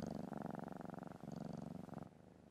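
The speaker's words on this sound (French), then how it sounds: "C'est un chat." A close, steady cartoon cat purr with a rhythmic rumbling pulse, continuous for a couple of seconds before softening at the end.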